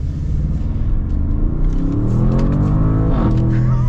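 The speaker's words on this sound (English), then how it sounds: "So I got it in the sport mode here. Get kind of an acceleration." A Bentley Bentayga SUV in sport mode accelerates, its engine rumbling low and rising steadily in pitch as it gathers speed, heard loud and close from inside the cabin with no talking.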